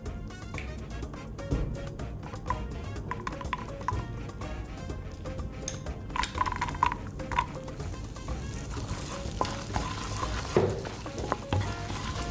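Garlic frying in butter in a pan, a steady close sizzle with occasional stirring clinks, continuous and fairly quiet throughout with no talk.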